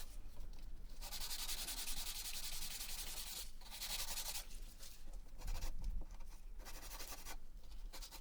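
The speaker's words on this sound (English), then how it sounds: "I then gave it all a sanding down with some 240 grit sandpaper." Steady scratchy rubbing of 240 grit sandpaper on pallet wood, continuous back-and-forth strokes with brief pauses, close up and fairly quiet.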